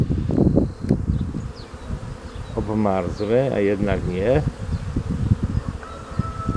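Honeybees buzzing densely around beehives as they carry pollen, a close, continuous hum moving from hive to hive while someone speaks Polish over it.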